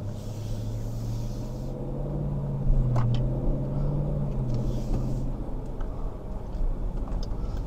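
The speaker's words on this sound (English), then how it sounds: "you'll never get tired of the exhaust, especially when it's like 30 degrees outside or 40 degrees on a cold day. It's just a nice loud rumble." A Dodge Durango SRT 392's exhaust gives a low, steady rumble at idle, droning continuously throughout with a slight swell partway through, no voices present.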